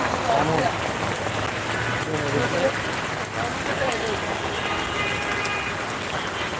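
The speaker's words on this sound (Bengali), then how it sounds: "প্রচুর পরিমাণ বৃষ্টি হচ্ছে" Heavy rain pouring steadily at a rail gate in Mahakhali, Dhaka, a dense continuous wash of noise, loud and unbroken throughout.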